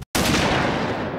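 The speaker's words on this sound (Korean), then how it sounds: "총소리?" A single loud gunshot in a Detective Conan movie cracks sharply after a brief silence, then rings out in a long, echoing boom that slowly fades.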